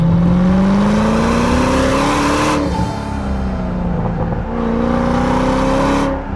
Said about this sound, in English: whoever thought to put a 4-inch exhaust on this thing, that was a good call, because it howls.